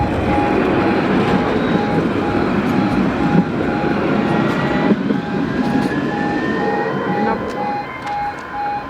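A tram in Nottingham rumbles past with a steady, loud rolling and rattling noise, a thin tonal whine running through it, faint chatter in the background.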